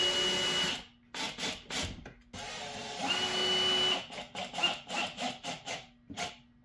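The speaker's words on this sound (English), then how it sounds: "The screws on the back here, I'm going to tighten those guys down a little bit." A power tool drives screws tight in a series of short whirring bursts separated by brief pauses, close by, with a few longer continuous runs and a faint steady hum between them.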